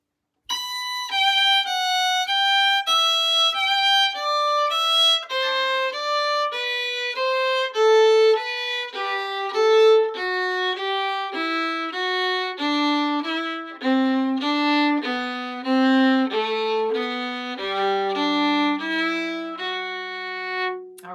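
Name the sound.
stringed instrument playing Irish reel Tripping Down the Stairs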